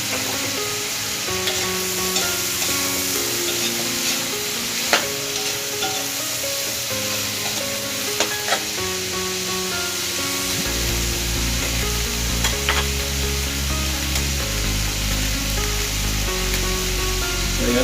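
String beans for ginataang sitaw sizzle and are stirred in a pan, steady frying with occasional clinks and scrapes, under continuous background music.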